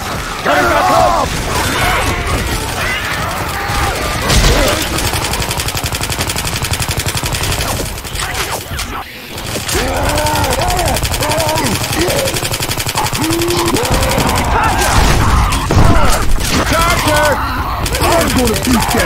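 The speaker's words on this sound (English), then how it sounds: "No, they're shooting!" Dense automatic and rapid gunfire rattles almost continuously through Left 4 Dead 2 cemetery survival combat, loud and close, with other game noise and shouted talk from players mixed in.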